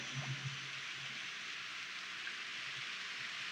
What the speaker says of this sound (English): Rain is awesome.